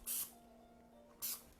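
Cooking spray hisses into a 9x9 baking pan in two short, close bursts separated by a brief pause in an otherwise quiet kitchen.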